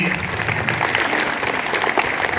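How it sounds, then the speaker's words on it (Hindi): Audience at a public welcome event applauding loudly, with dense steady clapping throughout. "किर्तीश भाई हैं, उनके लिए भी हम लोग जोरदार ताली देंगे।"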